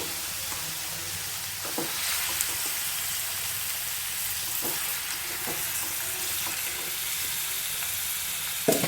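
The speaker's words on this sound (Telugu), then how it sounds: "ఇప్పుడు మనం చికెన్ వేసుకొని సిమ్లో పెట్టి వేయించుకుందాము" Chicken pieces fry on low heat in a pan for a Bhimavaram-style buttermilk curry, giving a steady, dense sizzle with faint stirring clicks throughout.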